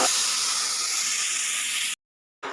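Water hits hot semolina in a pan, making a loud, steady hiss of steam and sizzle for about two seconds. A short silent gap follows, then the hiss resumes.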